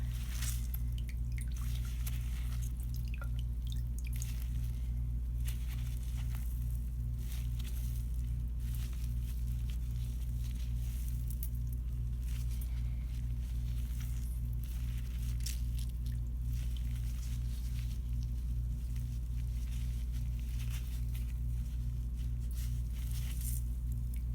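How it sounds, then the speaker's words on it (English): Berry pulp is squeezed by hand to press out liquid for ink, giving a continuous low wet squish with scattered faint drips and crinkles, close and quiet, with no talk. "you want to squeeze as hard as you can until no liquid's coming out"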